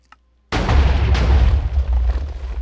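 A TNT cannon shell bursts mid-air in Minecraft, a sudden loud booming explosion with a second blast close behind, its rumble trailing off for about two seconds.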